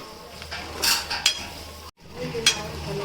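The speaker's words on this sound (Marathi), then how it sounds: "आता आपण आलं लसूणसुद्धा कांद्यामध्ये मिक्स करून घेऊया" A spoon stirs crushed ginger and garlic into onions frying in a pan, giving scraping, clinking strokes over a light sizzle, with a short gap midway before more stirring.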